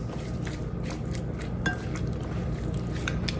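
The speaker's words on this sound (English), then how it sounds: "So now we're going to stir this up real good" Korean cucumber salad is stirred in a bowl with wet, squishy sloshing and occasional light clinks of utensil on the dish, continuous and close, with no one speaking.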